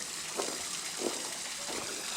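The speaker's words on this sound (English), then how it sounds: "Put a little stream in here with a waterproof membrane." Water trickles through a small garden water-feature stream lined with a waterproof membrane. The soft, constant, hissy flow is close and even, with a few slightly stronger splashy surges and no voices.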